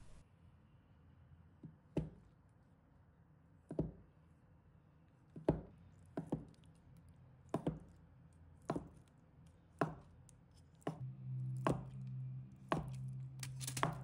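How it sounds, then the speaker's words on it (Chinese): A kitchen knife chops a block of tofu into small pieces on a cutting board, sharp single thunks spaced about a second or two apart, turning into quicker cuts toward the end, close and quiet with no speech. "再准备一块豆腐，把它切成小块。"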